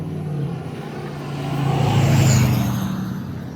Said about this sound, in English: it's a big ass truck.